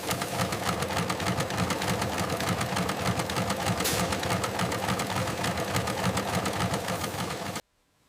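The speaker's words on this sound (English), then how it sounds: "Each seam must be sewn with precise seam allowance to achieve the correct crown circumference." An industrial sewing machine stitches cap seams in a hat factory, a steady fast mechanical chatter running loud and continuous before stopping abruptly near the end.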